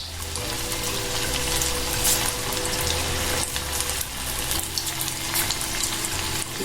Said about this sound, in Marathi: तळून घ्यायचे भजे।